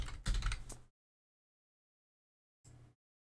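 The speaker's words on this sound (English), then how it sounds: "you hear a couple mouse clicks, a couple keystrokes" A few sharp computer keyboard keystrokes and mouse clicks in a quick burst, then silence, then one more brief click, close and alone with no talking.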